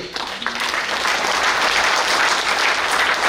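Sustained audience applause at a Hindi kavi sammelan poetry gathering at Pratap Gaurav Kendra, a dense, steady clapping from a large hall crowd that swells quickly and holds loud throughout, with no talk over it.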